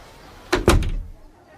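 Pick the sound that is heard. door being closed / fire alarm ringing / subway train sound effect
door being closed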